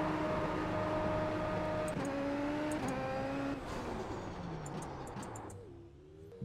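A Super Formula SF23 in a racing simulator launches at full throttle: the engine holds a loud, steady high rev, then pulls away with rising pitch through quick upshifts before fading lower near the end.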